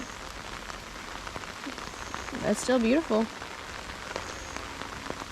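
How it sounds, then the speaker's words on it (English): Steady rain patters on a river in a continuous hiss, while a person briefly speaks over it midway. "Still got a lot of rain falling on it."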